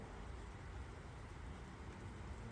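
Persistent rain falling in Sujangarh during a days-long downpour: a faint, even hiss that continues steadily throughout, without clear individual drops or voices.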